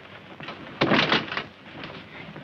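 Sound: door being shut and locked

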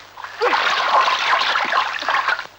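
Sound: person dunking and splashing in water

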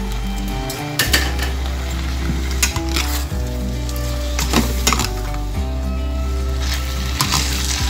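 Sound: fried cauliflower added to pan, stir-frying for gobi manchurian

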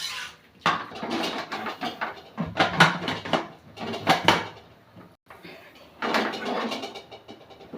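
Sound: closing the pressure cooker lid

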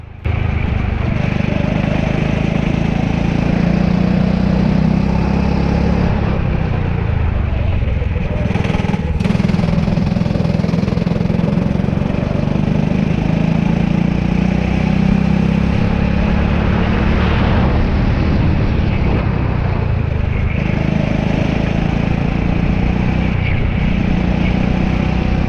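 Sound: go-kart engine doing laps on track

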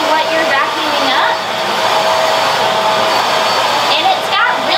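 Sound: lightweight handheld vacuum cleaner running

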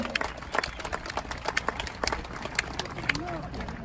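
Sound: rodeo audience applause

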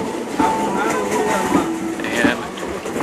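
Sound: passenger train from Thailand to Kuala Lumpur

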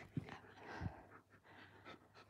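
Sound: dog panting

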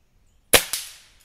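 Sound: rifle shot at a rabbit

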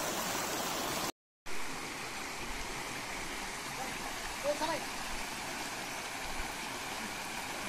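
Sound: gurgling stream water in Junnar forest

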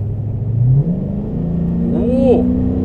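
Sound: Dodge Challenger R/T Plus Shaker engine revving

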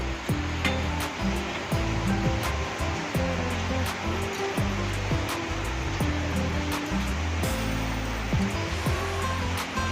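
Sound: hot water poured into cooking chicken curry

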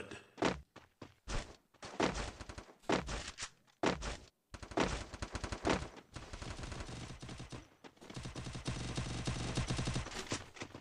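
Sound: gunfire in a video game (Free Fire)

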